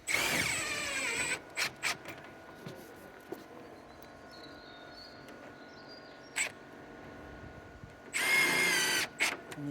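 A power drill drives screws into a fence panel with two loud, whining bursts at the start and end. Short taps and knocks from the fitting fill the quieter stretch between them.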